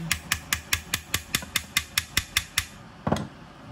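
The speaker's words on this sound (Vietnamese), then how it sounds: "lấy cái búa đóng cái chốt nó vô" A hammer drives a pin into the handle of a tamahagane steel tanto knife: about fourteen sharp, evenly spaced metallic taps close by, then a brief pause and one heavier final strike.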